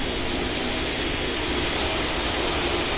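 A Delta Boeing 757 jet on final approach in the flight game PTFS gives off a steady, loud roaring engine drone with no pauses.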